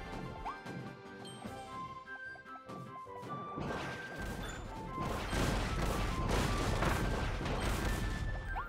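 Crates blown apart by bombs in the video game Kirby and the Forgotten Land, a dense run of cracking, smashing bursts that builds louder toward the end over game music, with no speech.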